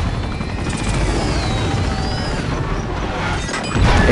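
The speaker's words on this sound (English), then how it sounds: "Explosion." In Uncharted 2: Among Thieves, an explosion plays out as dense, loud, continuous crashing and rumbling debris with a low roar that swells again near the end, filling the whole stretch without talk.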